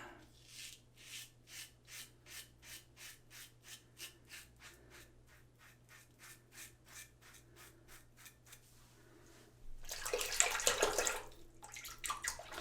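A Supply 2.0 single edge injector razor with a level 3 plate scrapes through lathered stubble in a long run of regular, close strokes, followed by a burst of running water as the blade is rinsed.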